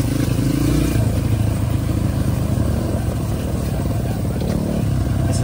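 A Honda CRF dirt bike revs hard while its rear wheel spins in mud, a loud, continuous engine roar with clattering churn, heard close for several seconds.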